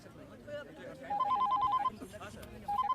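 A telephone rings in short repeated electronic bursts, two rings close together and another starting at the end, heard over background music and movie sound effects in a Hindi-dubbed action drama.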